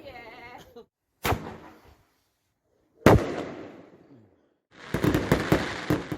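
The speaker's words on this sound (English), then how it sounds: "I did manage to get some footage of some fireworks" Fireworks going off on bonfire night: sharp loud bangs at intervals, the first two trailing off in crackle, followed by a dense burst of rapid crackling pops. A voice is heard briefly at the start.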